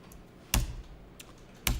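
A computer keyboard is struck during a data-entry exercise in accounting software, with a few separate, fairly firm key presses heard close up in a quiet room, no talking.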